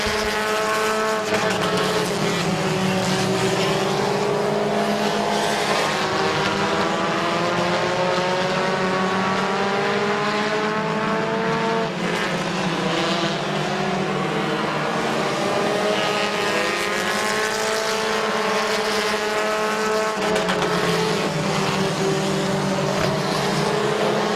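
Race cars lapping Midvale Speedway, a continuous loud roar of multiple engines with rising and falling pitch as cars pass, steady throughout with no pauses.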